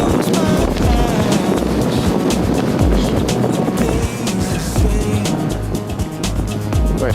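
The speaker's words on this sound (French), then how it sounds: "des moments, il y a des petites rafales" Strong gusts of wind high on the slopes of Mont Blanc buffet the microphone, making a loud, continuous roar that barely eases for the whole stretch.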